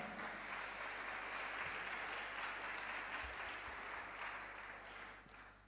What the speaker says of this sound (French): Est-ce que nous pouvons nous applaudir d'abord nous-mêmes?